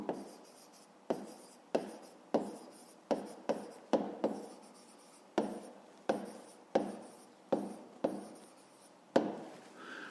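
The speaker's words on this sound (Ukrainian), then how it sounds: "записуємо відповідь" Pen or pencil writing out a math answer on paper by hand, about fifteen short scratchy strokes in an uneven rhythm, close and quiet with no talking.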